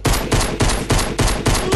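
Rapid bursts of video game gunfire from a mini bullet weapon in Fortnite, loud and close, arriving in about six evenly spaced volleys that repeat steadily with no voices over them.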